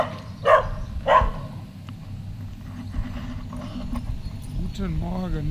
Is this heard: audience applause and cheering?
no